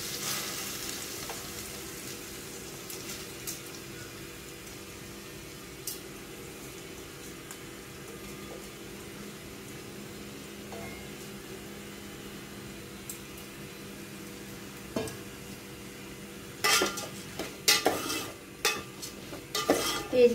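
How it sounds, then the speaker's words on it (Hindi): Rice being fried in a pan over a high gas flame, a low steady sizzle with a faint hum, then scattered stirring clinks and scrapes near the end. "चावल को मैं जरा फ्राई कर लूंगी"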